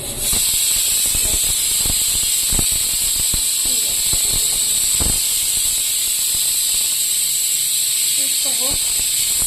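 A pressure cooker making ghugni lets off its whistle, a loud, continuous high hiss of escaping steam that runs steadily throughout, close by, with faint clicks and knocks underneath.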